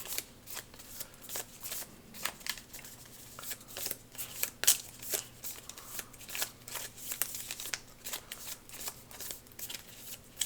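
A deck of game cards is shuffled by hand for a tabletop card game, with quiet repeated riffling bursts in an irregular rhythm, close up and without talking.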